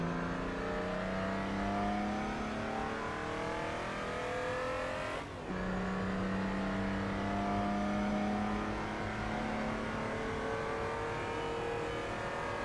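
BMW race car in a racing video game: steady engine whine with shifting revs, a brief cut midway, then a strong drone climbing again, loud and continuous without speech.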